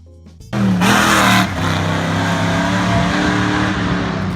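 A 1970 Chevrolet Corvette with the LS5 454 V8 bursts into a loud, close roar, peaking hard for about a second before settling into a heavy, steady rumbling drone, with no talk.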